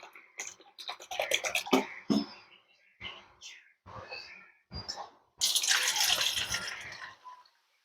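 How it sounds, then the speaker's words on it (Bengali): Semolina is rinsed with water in a bowl, giving a series of short sloshing and splashing bursts with quiet gaps between, ending in one longer swirl of water. "এবার সুজিটাকে জল দিয়ে ধুয়ে নেব"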